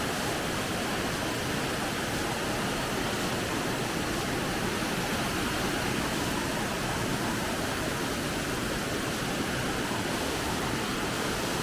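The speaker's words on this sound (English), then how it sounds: "Waterfall number 2." A waterfall in Shillong, Meghalaya, India pours out a steady, dense roar of rushing water that holds at an even level throughout, with no voices.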